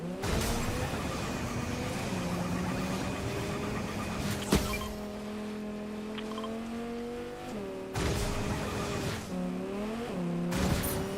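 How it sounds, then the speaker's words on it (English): Car engine in the Fortnite video game, a steady droning hum with shifting pitch as it revs and changes gear, with a few brief sharp knocks, no talk. "I'm gonna grab this car"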